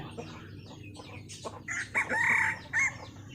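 A fighting rooster crows nearby on a cold, overcast day, a loud drawn-out call in a few rising and falling bursts, with softer clucking and background noise before it.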